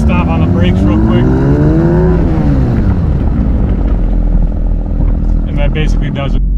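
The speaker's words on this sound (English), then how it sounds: "So we're gonna just stop on the brakes real quick." A Porsche 992 GT3 Touring braking hard to clear rust from its rotors and calipers, loud close engine note rising then dropping as the car slows, with a rumbling drone and a few sharp higher squeals near the end.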